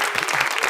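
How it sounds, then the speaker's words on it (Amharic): Applause from a studio audience at an Ethiopian television game show, a dense steady clapping that fills the whole short moment with no voices over it. "አጨብጭቡላት።"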